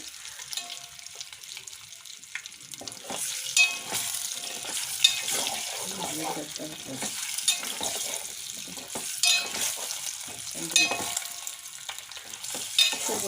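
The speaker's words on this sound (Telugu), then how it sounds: "కూడా ఎగ్స్ ఫ్రై చేద్దామండి" Eggs frying in a pan with an ongoing crackling sizzle, punctuated by intermittent scraping and stirring sounds from a utensil against the pan.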